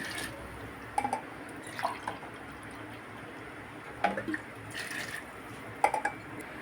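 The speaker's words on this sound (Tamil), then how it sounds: "1 டம்ளர் அரிசிக்கு நம்ம 2 டம்ளர் தண்ணி ஊற்றுறோம்." Water is poured into a pot of basmati rice while making tomato rice, heard as faint, intermittent splashes and trickles in short bursts against quiet kitchen background.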